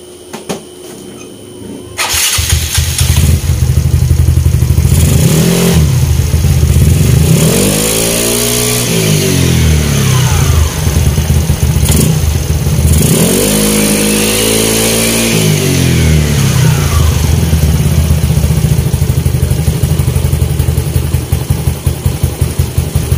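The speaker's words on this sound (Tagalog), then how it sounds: "Paandarin natin yung motor" A Yamaha Mio Sporty motorcycle engine with an upgraded CVT cranks and catches, then idles roughly and revs up twice in loud rising-and-falling bursts before settling into a steady idle.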